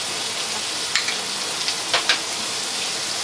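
Butter sizzles and crackles in a hot pan beside a steak and asparagus, a close, steady frying hiss with a few louder spattering pops.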